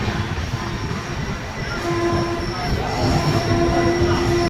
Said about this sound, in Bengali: সকাল প্রায় 8টার সময় ট্রেন এসে পৌঁছালো মেচেদা।